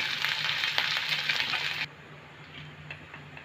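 Ginger and garlic fry in a pan while being stirred, a close, loud sizzle with stirring scrapes that cuts off sharply after about two seconds, leaving faint, quiet kitchen clatter with no voices.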